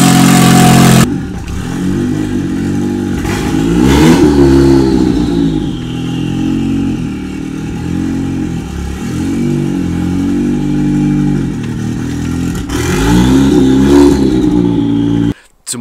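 A freshly turbocharged Mazda Miata engine runs close by, idling roughly and then revving in several swells, loud and steady, with a sharp cutoff at the end.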